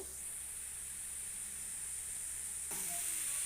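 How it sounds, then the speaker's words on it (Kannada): Leafy greens sautéing in a pan for restaurant-style chole, a faint, even hiss with a slight rise near the end. "ಈ ಥರ ಚೆನ್ನಾಗಿ ಬಾಡಿಸ್ಕೊಂಡ್ರೆ ಅದು ಟೇಸ್ಟ್ ಒಳ್ಳೆ ಟೇಸ್ಟ್ ಕೊಡುತ್ತೆ"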